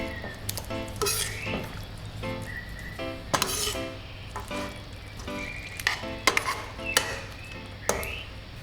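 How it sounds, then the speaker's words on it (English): Ketchup being stirred into a fried Spam stew in a pan, a steady soft sizzle with intermittent scraping and clinking of a utensil against the cookware, close and moderately loud, no talking. "And then stir the ketchup in the stew."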